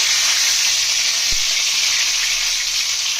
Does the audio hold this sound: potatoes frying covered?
yes